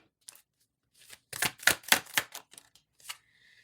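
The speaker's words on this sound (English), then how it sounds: "Let me give it one more quick shuffle." Tarot cards are shuffled by hand in quick bursts of crisp flapping clatter, loudest in the middle, in an otherwise quiet room.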